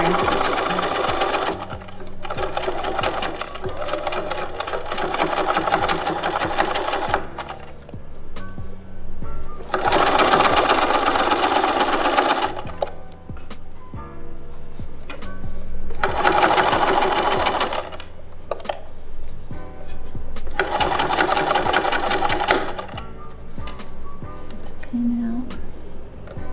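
A sewing machine stitches a fabric bag in bursts of steady, rapid mechanical whirring, several runs separated by pauses with quiet talk between them.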